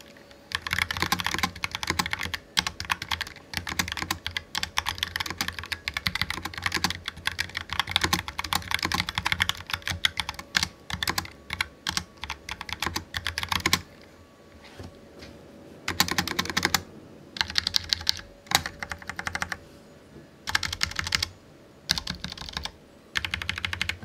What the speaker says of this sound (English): The typing experience on this keyboard is pretty nice.